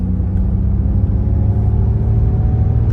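A Ford Mustang Mach-E's synthetic acceleration sound hums as a steady low drone with rumbling road noise inside the cabin, with no talk.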